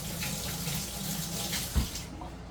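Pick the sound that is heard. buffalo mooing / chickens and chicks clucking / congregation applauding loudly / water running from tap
water running from tap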